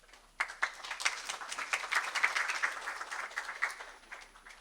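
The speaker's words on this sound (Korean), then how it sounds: "큰 박수로 맞이해 주시기 바랍니다." Conference audience in Korea claps to welcome a speaker at a defense industry missile-defense event, a crisp round of many hands starting after a short quiet moment, steady and moderately loud, then gradually easing.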